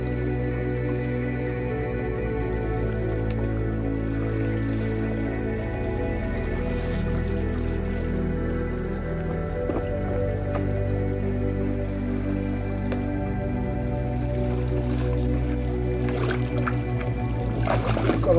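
A water pump runs steadily beside a stream in the West Country, UK, drawing water out from under rocks during prospecting, a continuous low mechanical drone with splashing, dripping water over it throughout.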